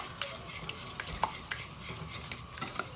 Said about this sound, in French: On va venir mélanger l'ensemble, comme vous voyez à l'image, proprement, le plus possible